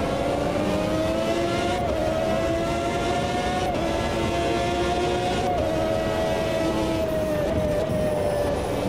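Historic Formula 1 race car in the Automobilista 2 racing game, a loud continuous high-revving engine whine whose pitch rises and dips through gear changes, with other cars' engines layered close behind.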